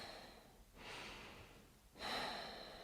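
Two slow, audible breaths, each a soft airy rush lasting about a second, heard close up in a quiet room during a tape-measure fitting.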